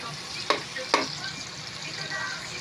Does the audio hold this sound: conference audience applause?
no